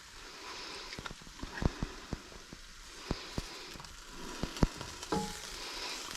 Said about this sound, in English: The onions are starting to sweat.